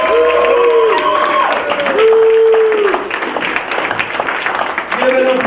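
Audience applause and cheering at a Christmas comedy toy drive show, clapping for a comedian, steady and fairly loud throughout with a crowd murmur and tonal music chimes over it.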